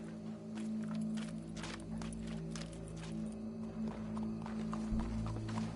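Horse hooves clip-clop in Red Dead Redemption 2, with soft, irregular footfalls set against a steady game soundscape of low humming tones, quiet and moderately close.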